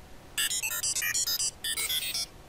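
A save chime in the video game Platformines: a bright, rapid series of about a dozen electronic beeps in two quick runs, loud and clear with nothing else over it.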